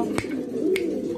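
Breeding pigeons coo in a low, continuous murmur, with a couple of sharp clicks or taps over it.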